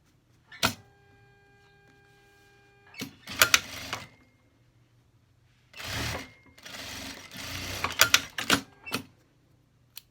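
Sewing machine stitching a teddy fleece jacket in several short bursts of rapid whirring, separated by quiet pauses, with a few sharp clicks between runs.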